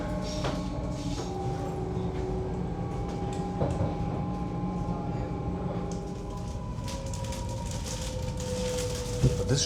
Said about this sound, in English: This should be already our train